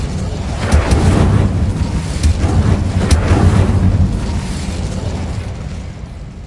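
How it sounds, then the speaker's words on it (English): Fiery spell blast cast in a Hogwarts wizarding video game near Honeydukes in Hogsmeade, a loud sustained whooshing burst with rumbling low crackle lasting several seconds, no talking. "Incendio!"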